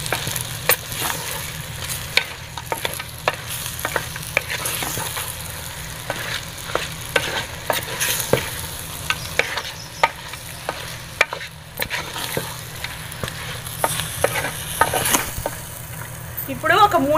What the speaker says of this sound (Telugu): ఇవన్నీ ఓకే మొత్తం వేసి శుభ్రంగా కలపాలి